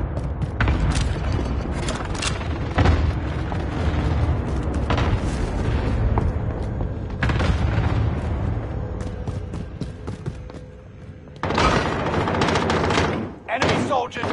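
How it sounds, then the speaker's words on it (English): Precision airstrike explosions in Call of Duty: Warzone, with repeated heavy booms and bursts of gunfire, loud and dense and mixed with mechanical clatter, easing briefly before another strong blast near the end, under in-game voice callouts. "Allied precision airstrike incoming."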